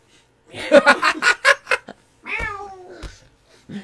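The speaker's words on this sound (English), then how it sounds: "Oh, this kitty." A cat meows a few times in a short rhythmic run of calls, then gives a longer drawn-out cry, fairly close and clear, with a little laughter nearby.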